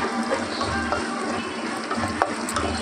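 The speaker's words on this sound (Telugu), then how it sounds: "దీనికోసం పెనం పెట్టి తిరువాత గింజలన్నీ వేసుకొని నూనె, 2 ఎండుమిర్చి కూడా వేసాను." Mixed seeds and two dried red chillies fry in oil in a pan for tempering, giving a steady close crackling sizzle with faint scraping throughout.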